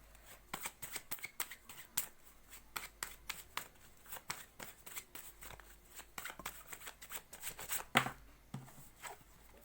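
Tarot cards shuffled and flicked in quick, irregular bursts of crisp papery riffles and slaps, close and fairly quiet, with a sharper snap near the end and no talking.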